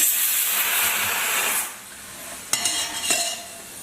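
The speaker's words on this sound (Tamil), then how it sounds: "கொஞ்சம் கடுகு, கருவேப்பிலை போடுறேன்" Mustard seeds and curry leaves hiss and sizzle in hot oil for onion sambar, a loud bright crackle that fades, then a spoon clinks against the pan a couple of times.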